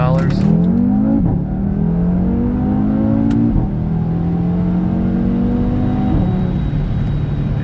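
A 2018 Audi RS3 with about 50,000 miles accelerates hard from inside the cabin, its engine note climbing through several gear changes with brief dips between pulls, loud and steady under someone talking.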